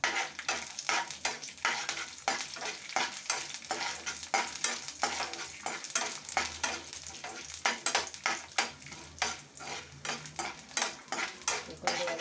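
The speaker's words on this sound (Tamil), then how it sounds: "காஞ்ச மிளகாய் அது கொஞ்சம் நம்ம லைட்டாக ஃப்ரை பண்ணி விட்டுடலாம்" Dried red chillies fry lightly in hot oil in a pan, a steady sizzle with repeated scrapes and clinks of a metal spoon stirring, close and busy throughout, no voices.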